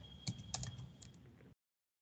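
A computer keyboard being typed on in a quick, quiet burst of several key clicks with a faint steady tone underneath, ending abruptly in silence.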